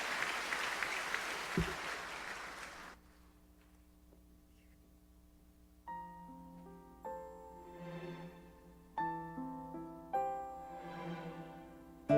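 Church congregation applauding in a large hall, a dense burst of clapping for the first few seconds that stops abruptly, followed by quiet organ-like sustained tones and soft singing.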